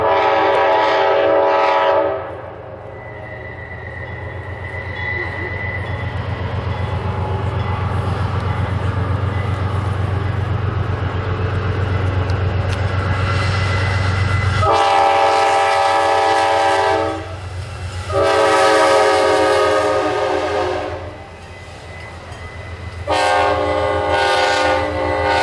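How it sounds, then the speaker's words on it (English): Amtrak Pennsylvanian passenger train passing eastbound at Horseshoe Curve on the old Pennsylvania Railroad main line, a loud steady rumble of rolling cars with several long horn blasts sounding near and alone. "Here we see Amtrak's Pennsylvanian headed eastbound with an interesting coach at the rear."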